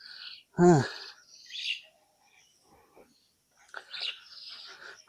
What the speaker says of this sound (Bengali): একবারে পাখির কিচিরমিচির।